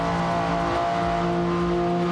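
A race car in a video game racing league at Monza rounds the Parabolica, its engine giving a loud, steady high-pitched whine with a strong, unbroken tone throughout.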